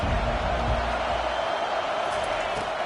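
A football stadium crowd roars in a dense, steady wash of cheering and noise that holds at a loud level throughout, with a commentator's voice running over it.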